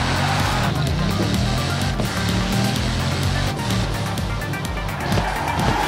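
A car engine in Forza Horizon 4 roars steadily under acceleration, a loud continuous drone with shifting low harmonics, while a voice talks faintly over it.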